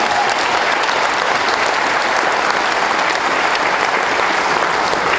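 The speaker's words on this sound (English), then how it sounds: "Let's all cheer for him right now." A crowd at a Pro Circuit motocross rider introduction applauds and cheers for rider Dean Wilson, a steady, dense wash of clapping that holds evenly throughout.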